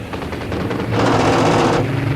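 Aircraft machine gun fire in a radio drama: a dense, continuous rattling burst that swells louder midway and stays loud and close throughout, with no voices over it.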